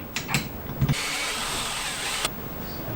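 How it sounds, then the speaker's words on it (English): A drill bores and widens a hole in a wheel hoe handle: a few sharp clicks and handling knocks come first, then a loud, even whir that runs for over a second before stopping. "I'm going to need to drill this a little and twist the hole so that"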